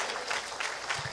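A church congregation claps together in a brief, steady burst of applause, moderately loud and roomy, with a faint voice underneath.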